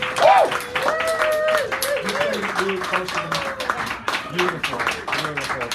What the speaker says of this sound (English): So a nice warm round of applause for our feature, Kol Morrison, coming up here.